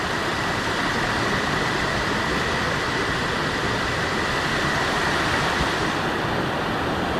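Water flows over wide boulders and granite rocks at Urulikundu waterfall in Irikkur, Kannur, making a steady, dense, continuous rushing roar heard close up and alone.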